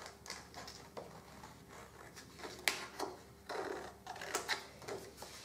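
Scissors cutting around a section of a German Expressionist paper print for collage, a soft run of uneven snips and paper rustles close by, with no talking.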